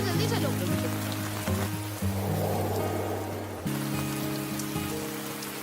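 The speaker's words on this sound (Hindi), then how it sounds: "तेज बारिश हो रही है" Heavy rain pours in a dense, constant patter, loud and close, beneath a tonal music-like drone that cuts off briefly midway and returns.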